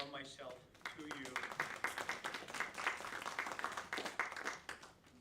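Theater audience clapping in steady, dense applause lasting several seconds, fairly soft and even, with a voice heard briefly at the start.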